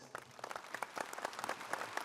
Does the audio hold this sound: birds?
no